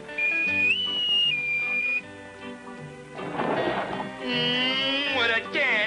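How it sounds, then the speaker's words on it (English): A whistle is blown aboard a boat in a cartoon setting, giving a steady high tone that shifts pitch partway through. A second shriller burst follows after a stretch of lively background music. "What a dandy whistle."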